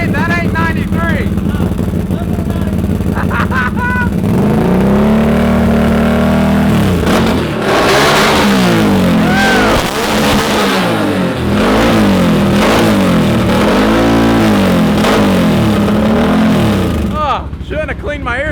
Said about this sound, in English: Hear the new motor? This thing should be so sick, boys.